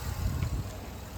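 An old auction-bought Chevrolet Suburban's engine runs with a low, steady rumble, heard up close for a brief moment.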